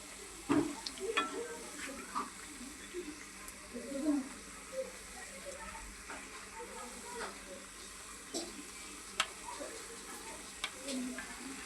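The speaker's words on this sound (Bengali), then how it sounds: "এই যে আগে আমি বেগুনিগুলি ভেজে নিতেছি।" Battered eggplant fritters (beguni) frying in oil for an iftar spread, a soft, steady sizzle with scattered crackles and the clink of stirring, moderately quiet and continuous throughout.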